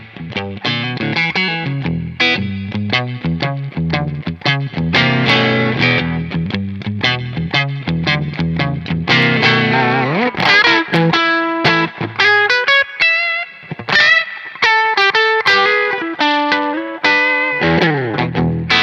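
Tom Anderson Telecaster-style electric guitar played through a warm, slightly overdriven low-wattage Magnatone tube amp, a continuous run of chords and single-note lines with a rich, saturated tone, loud and alone.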